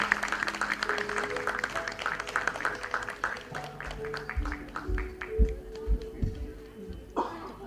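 Audience applause at an indoor Women's Day award ceremony honoring women in society and journalism, a steady wash of clapping from a crowd that tapers toward the end, with a voice over it near the close.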